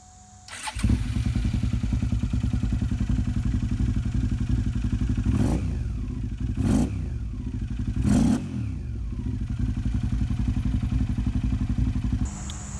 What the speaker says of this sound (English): once I got another starter in there, charged the battery a little bit, fires right up.